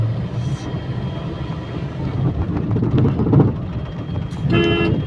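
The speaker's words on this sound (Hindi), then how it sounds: "आप हॉर्न ज़रूर बजाते रहिए फिर उस समय, हर थोड़ी थोड़ी देर पे हॉर्न ज़रूर देते रहिए" Car road and engine rumble while driving in heavy fog, with a short honk near the start and a clearer, louder horn toot toward the end.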